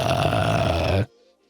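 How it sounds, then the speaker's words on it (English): A long, loud burp-like grunt with a low, rough buzz, about a second of continuous guttural sound, stopping abruptly and followed by near silence. "That sounds like a burp."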